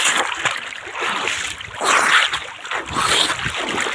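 People swim across a river, their strokes churning the water in irregular splashes and slaps, close and fairly loud against an open outdoor backdrop.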